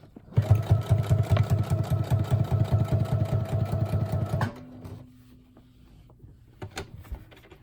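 A sewing machine runs steadily for about four seconds, stitching a handmade journal with a fast, even rhythmic chatter, then stops, followed by quiet handling noises and a few faint clicks.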